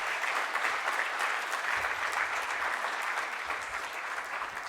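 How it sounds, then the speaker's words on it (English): A crowd at an awards dinner gives a sustained round of dense, even clapping that holds steady for several seconds without speech. "A round of applause for all of you."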